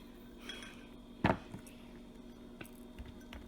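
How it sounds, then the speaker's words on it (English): Lemons stirred about in a tray with a utensil, one sharp clattering scrape followed by a few lighter clinks and taps against a quiet background, no voices. "Put that in. Stir it about a little bit. Stir it about."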